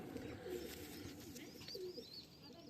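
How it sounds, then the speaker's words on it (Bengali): Old domestic pigeons coo in soft repeated low warbles close by, with faint chirps higher up over a quiet indoor background. "এইটা আমার ঘরের পুরাতন পায়রা"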